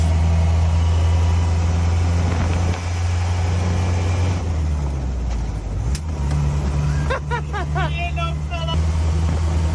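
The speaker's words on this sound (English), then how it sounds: "what we're doing there is dropping the overdrive down and putting the gear up to give you like a half gear" A Land Rover Series 3 engine drones loudly and steadily as it changes gear with the overdrive, the note dipping briefly a couple of times, with faint voices inside the cab.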